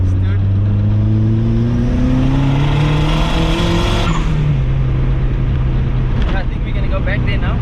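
A rear-wheel drive Mazda Miata drifts and revs loudly up close, its engine note climbing in pitch for several seconds before dropping off abruptly, then tires scrub and the engine settles into a lower drone.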